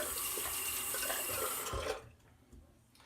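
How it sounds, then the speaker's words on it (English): Water running from a tap to rinse shaving lather off a razor blade: a steady close hiss of flowing water for about two seconds, then it shuts off, leaving faint drips and room quiet. "a few seconds to rinse it off the blade"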